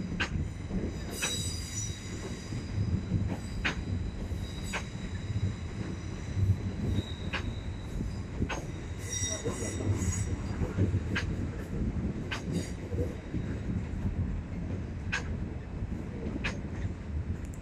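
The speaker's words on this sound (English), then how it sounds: "The 10:34 Southwestern Railway service from London Waterloo on 1 Papa 21, and it's a pair of 450s" A pair of Southwestern Railway Class 450 electric trains at Portsmouth Harbour, heard as a steady rolling rumble with repeated sharp wheel clicks and squeals at a fairly low level.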